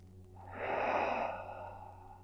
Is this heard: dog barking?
no